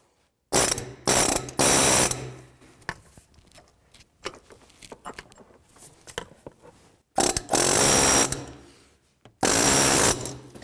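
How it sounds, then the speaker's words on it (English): Harmonic balancer on a 2000-13 GMC Yukon being loosened with a fan clutch tool and 36mm adapter, in loud close mechanical bursts of rapid rattling, two short ones and then two longer ones, separated by quieter clinks and handling noises. "I'm going to use a fan clutch tool with the 36mm adapter."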